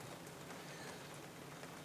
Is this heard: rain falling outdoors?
yes